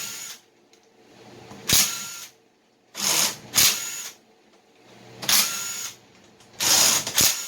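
A ratchet removes bolts from a 3.0 V6 engine during teardown, in four separate bursts of rapid clicking, each lasting under a second, with quiet pauses between them, close and loud.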